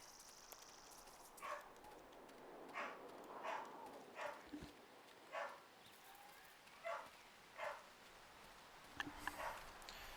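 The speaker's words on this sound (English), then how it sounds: "Sounds like people are agitating the dog." Repeated dog barks in the Neverwinter Nights game, about eight short yaps spaced a second or so apart, moderately distant over a steady outdoor ambient hiss.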